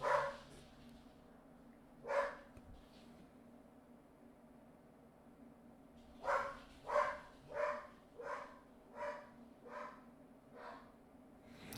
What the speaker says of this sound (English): He's probably barking at his owner that just came home.